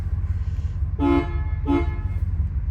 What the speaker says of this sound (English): Very loud horn, like you expect from a loud vehicle.